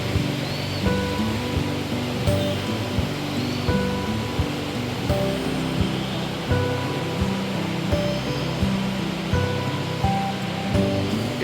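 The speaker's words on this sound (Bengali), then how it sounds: "এই জলটাই পরিণত হচ্ছে ওয়াটারফলে।" Rushing river water near a waterfall in Tapalpa, Jalisco, Mexico, a steady broadband roar of flowing water, close and continuous with no voices.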